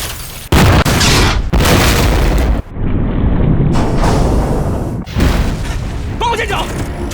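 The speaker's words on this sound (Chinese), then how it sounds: "船尾左舷水下爆炸，船壳爆裂，转动失灵。" A loud underwater explosion rips into the port-side stern of a warship in a wartime river battle on the Yangtze, with heavy booming bursts, rushing low rumble and cracking hull noise, interrupted by brief gaps and shouted voices.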